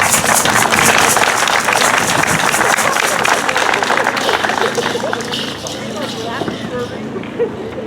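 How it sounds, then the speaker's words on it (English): A crowd at a Vanessa Guillen Call to Justice memorial gathering in Greenfield, California, breaks into loud, sustained applause mixed with voices and hubbub; the clapping thins and softens toward the end. "So let's give them a round of applause"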